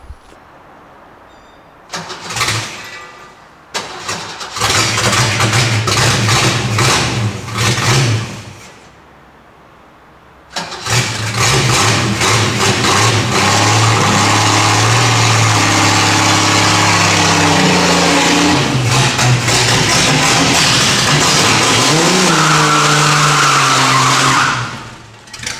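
Engine of a 1963 Ford Falcon barn find cranking and catching, with a couple of loud revving bursts, then a sustained close roar as it drives up a driveway, the pitch rising and falling.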